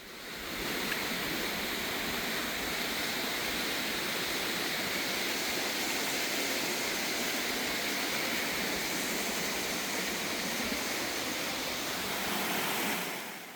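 A waterfall in Gwacheon rushes in a continuous, even roar of falling water, steady and moderately loud throughout, with no voices.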